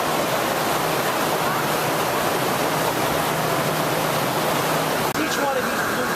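Water at a sewage treatment plant rushes and churns through inflow gates in a loud, continuous roar, with a faint low hum underneath and one brief knock near the end.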